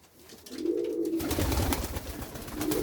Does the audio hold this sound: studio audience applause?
no